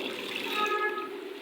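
Chana dal poured into a bowl of water to soak, with a steady close splashing and running-water wash.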